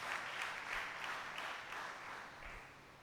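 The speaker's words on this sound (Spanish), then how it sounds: "Denle un aplauso al Señor" A church congregation applauds during a Spanish-language sermon, a faint, distant patter of many hands that swells in soft pulses and gradually fades.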